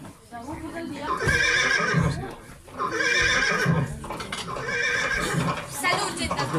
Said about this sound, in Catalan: Aquest cavall que no tira.